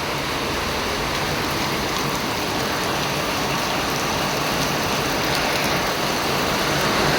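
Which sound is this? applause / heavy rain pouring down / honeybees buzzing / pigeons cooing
heavy rain pouring down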